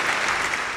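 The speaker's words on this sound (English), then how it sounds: "I'm going to give myself a house applause on that" A short burst of dense, steady applause from a small studio group during a live chat show, continuous and fairly close for under a second.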